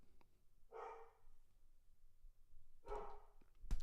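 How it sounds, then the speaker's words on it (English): A golden retriever barks indoors in the background, giving two separate muffled barks a couple of seconds apart at a moderate distance, with no talk over them. "Can you guys hear my dog in the background?"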